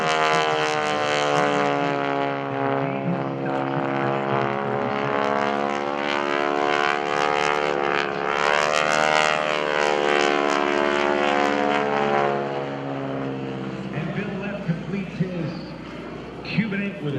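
A propeller aerobatic airplane maneuvers at an airshow, its engine droning steadily with shifting pitch as it twists and climbs away, loud and continuous, with an announcer talking over it.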